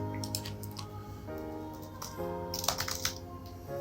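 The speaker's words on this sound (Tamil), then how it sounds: "ஸோ நீங்கள் ஏபிசிடி வச்சு டைப் பண்ணிங்கன்னா" Typing on a Mac keyboard, with quick irregular key clicks up close over a steady electronic hum, busiest in a dense burst near the end, with no talking.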